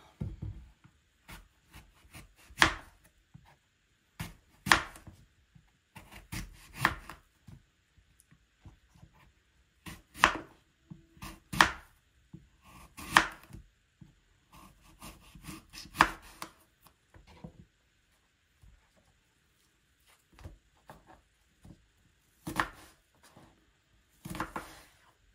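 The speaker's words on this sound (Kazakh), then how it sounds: "Ең алдымен алманы турап аламыз." A knife chops apples on a cutting board for a weight-loss salad, giving close, sharp, irregular taps in quick bursts separated by short pauses.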